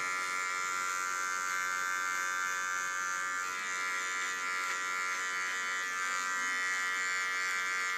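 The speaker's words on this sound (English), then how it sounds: "Come in with my smallest clipper" A small electric hair clipper runs with a steady, close, unbroken buzz throughout, its pitch wavering slightly as it cuts short hair.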